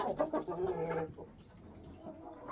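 Rooster chasing and pecking at a hen in a farmyard, a burst of loud close clucking and squawking that fades into quieter background sounds.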